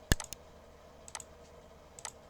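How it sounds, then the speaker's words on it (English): Computer mouse clicks while drawing chart lines: one sharp loud click followed by several fainter paired clicks spaced about a second apart, close and crisp over a quiet background. "So I just double click"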